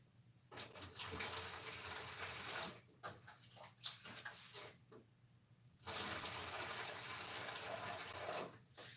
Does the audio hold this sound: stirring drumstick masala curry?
no